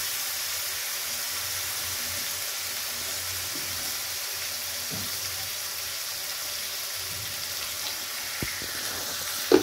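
Water goes into a sizzling spice paste frying in oil for a hilsa fish curry, a continuous hiss of frying with a few small clinks and a brief knock near the end.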